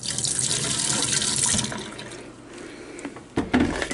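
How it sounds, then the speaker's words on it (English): Antifreeze poured into a kitchen sink drain while a cabin is winterized gives a steady liquid rush for about two seconds, fading into softer trickles and a few sharp clatters near the end, close and fairly loud. "you want to pour a little bit of antifreeze into the kitchen sink"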